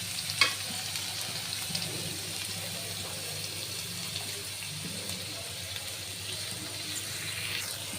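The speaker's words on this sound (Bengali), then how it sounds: "এখন পেঁয়াজ কুচি দিয়ে দিব, পেঁয়াজ কুচি দিয়ে দিয়েছি।" Chopped onion frying in oil in a pan after cumin seeds, a steady soft sizzle running throughout at moderate level, with a sharp clink near the start and faint stirring scrapes.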